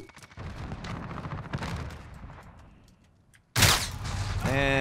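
Shotgun blasts in Call of Duty: Modern Warfare multiplayer, a loud sudden burst near the end after quieter gunfire and game ambience, with sharp ringing tails, close and dominant.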